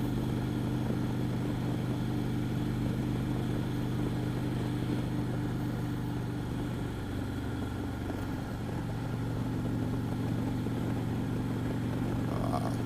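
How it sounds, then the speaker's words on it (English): Motorcycle cruising on the interstate: a steady, unbroken engine and wind roar, moderately loud and even throughout, with no talk. "This bike is nice on the interstate. It is smooth."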